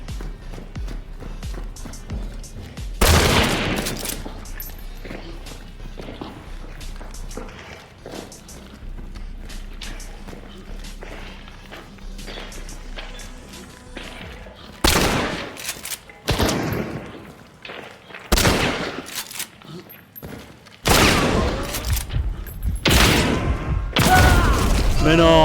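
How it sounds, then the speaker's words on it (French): Video-game gunfire erupts in bursts of loud shots and impacts, separated by quieter stretches of footsteps and movement, with a player talking over it. "Il attend que je tire une balle."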